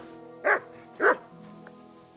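A dog named Mutt gives two loud, close barks about half a second apart, followed by a faint yip; low tonal background hum underneath.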